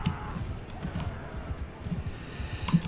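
Galloping horse hooves in the video game Mount & Blade II: Bannerlord, a steady rapid clip-clop rhythm running throughout, fairly loud, with game sounds around it.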